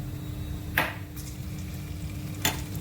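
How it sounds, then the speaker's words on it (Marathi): Oil and butter sizzle steadily in a pan, a close continuous frying hiss with a low hum beneath, broken by two brief scraping clinks of a ladle or spoon against the pan. "आलू मटरसाठी आणि मेथी याच्यासाठी मी हे एक पळी तेल घातलं. त्याच्यामध्ये मी थोडं बटरही घालणार आहे."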